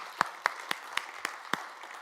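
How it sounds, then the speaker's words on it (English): Applause at a live student architecture awards ceremony in South Africa comes as six sharp, evenly spaced claps, like one or a few people clapping in a slow rhythm, with no voices. "I would appreciate it if you join me in applauding Corobrik for their hard efforts"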